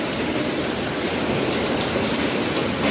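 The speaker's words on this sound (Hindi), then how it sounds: "बारिश बहुत तेज हो रही है" Heavy rain pours down at night in a dense, steady hiss with no letup, a close, even wash of countless drops on surfaces, and no voices.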